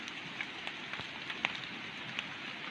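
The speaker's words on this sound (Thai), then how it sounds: "ฝนตกแบบนี้ ดอกงามครับเห็ดตะไคร่หรือว่าเห็ดไข่บานเท่าครับ" Rain falls outdoors during mushroom picking, a soft constant hiss with scattered sharper drop ticks and small knocks, fairly faint and steady with no voices.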